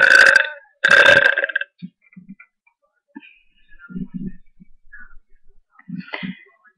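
A child gives two loud, rough burps close to the microphone, followed by faint small clicks and taps in an otherwise quiet room.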